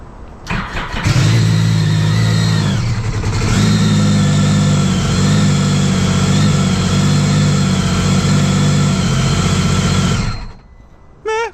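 A Sea-Doo GTX 300 Limited personal watercraft with a ported head, running a Calas Stage 2 tune, starts up and holds a strong, steady engine drone for about nine seconds before cutting off.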